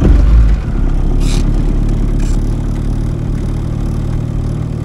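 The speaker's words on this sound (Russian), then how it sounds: "попробую стартер. Son of a gun, он работает четко." A jet ski engine under repair turns over on its starter and settles into a steady mid-pitched idle hum, loud and close with no talking.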